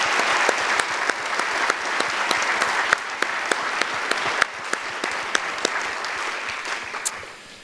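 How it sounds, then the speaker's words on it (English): Audience applause follows a talk by Nipun Mehta at an event with Arun Gandhi. It is steady, moderately loud clapping from a seated crowd, with a few sharper individual claps standing out, and it fades toward the end. "let's give Nipun one more round of applause for a great talk"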